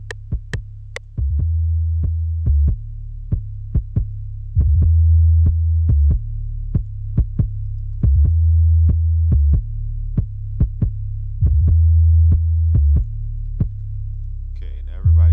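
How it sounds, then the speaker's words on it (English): An untuned trap drum pattern plays in FL Studio. A deep, droning 808 bass holds long notes that shift pitch, while sharp, regularly spaced clicky hits keep a steady rhythm. It runs loud and alone with no talking. "I already laid down some drums, so I'll let you hear the basics, out of tune, everything."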